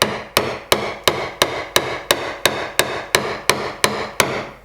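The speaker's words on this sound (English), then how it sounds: "Then we'll just gently tap it around with a hammer," Steady metallic hammer taps, about a dozen evenly spaced sharp strikes, seating a new sealing ring on the fuel tank of a Ford Escort RS Cosworth during restoration; close, clear, no talk.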